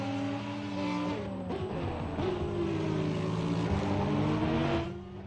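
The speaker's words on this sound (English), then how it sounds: "Listen to that Audi." Audi R8 race car in a racing video game at the Hungaroring circuit, engine roaring steadily throughout with pitch shifts as gears change and revs climb, loud and close, fading slightly at the end.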